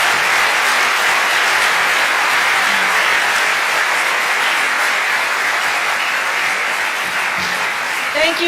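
Sustained, dense applause from an audience at a celebration of Massachusetts' health care reform anniversary, loud and steady throughout with no pauses.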